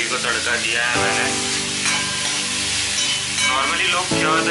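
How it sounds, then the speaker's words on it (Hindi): Maggi noodles get a tadka in a hot pan, sizzling steadily and loudly up close, with a few stirring scrapes breaking the crackle. "अभी ये जो मैगी को तड़का दिया है मैंने,"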